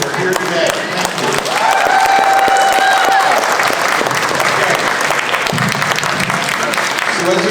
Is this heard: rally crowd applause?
yes